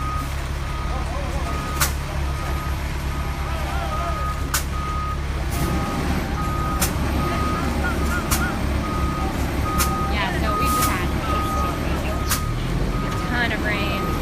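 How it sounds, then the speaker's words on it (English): A fire truck stranded in a flooded New Orleans street sounds its reversing alarm, a steady run of loud, evenly spaced beeps over a low engine rumble and road noise, with voices talking now and then. "So we've got a fire truck stuck here."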